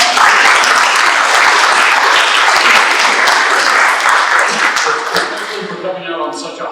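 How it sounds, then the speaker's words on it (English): An audience at an evening history lecture applauds warmly, a dense, sustained clapping that stays loud for several seconds before thinning out and tapering off. "Give yourself a big round of applause."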